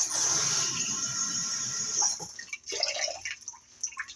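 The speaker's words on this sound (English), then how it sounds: "Now fill in the water" Water pours into a vessel for making cold brew coffee, a steady splashing stream for about two seconds that then breaks into scattered drips and small splashes, close and fairly quiet.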